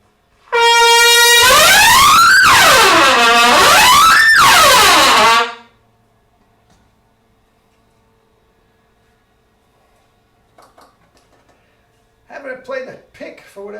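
A loud truck air horn blasts for about five seconds, its pitch rising and dipping in waves, followed by quiet and some faint rustling noises.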